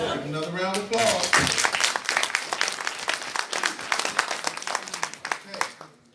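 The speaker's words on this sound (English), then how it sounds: "Another round of applause." An audience at a Nation of Islam town hall meeting breaks into applause, a dense clatter of many hands that starts under a voice speaking, swells quickly, then tapers off toward the end.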